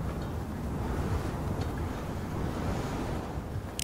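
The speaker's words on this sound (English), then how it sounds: "Nothing but the wind." Steady wind blows across a desert highway in Call of Duty: Modern Warfare, a continuous, fairly loud broadband rush with no pauses and a brief brighter hiss near the end.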